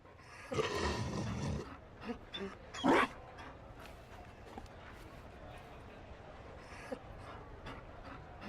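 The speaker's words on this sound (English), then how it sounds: "You found a dog. They don't breed Mabari in Olay." A Mabari war dog in the fantasy video game Dragon Age: Inquisition pants and growls in short, close bursts around the start, followed by quieter snuffles and faint movement in a subdued game scene.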